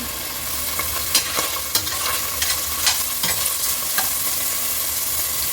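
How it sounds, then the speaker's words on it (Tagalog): Onions frying in hot oil give off a loud, steady sizzle. Light scrapes of stirring rise above it at intervals, close up, and no one speaks. "Tumutunog-tunog na ng ating sibuyas."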